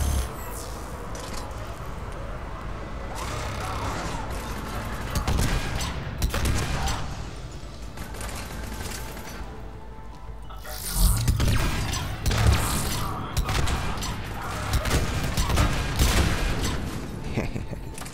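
A hacked turret fires in Mass Effect 3 during a firefight, with dense rattling bursts of gunfire, booms and crashes swelling and fading over a long stretch of battle noise.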